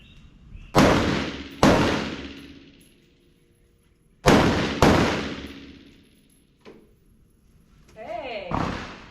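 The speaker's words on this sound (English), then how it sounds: "We'll do 2 shots to the body standing, and then 1 to each pelvic kneeling." A U.S. Air Force staff sergeant fires at the MacDill Air Force Base range in Florida: four loud, sharp gunshots in two quick pairs, each ringing out in a decaying echo, a fainter thump, then a voice.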